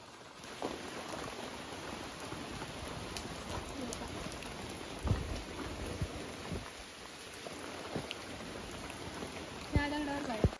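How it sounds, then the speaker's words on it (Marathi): Rain falls steadily as a soft, constant hiss during a descent from Avchitgad fort in the Sahyadri hills, with occasional scattered thumps and faint bird calls. "पाऊस आता सुरू झालेला आहे."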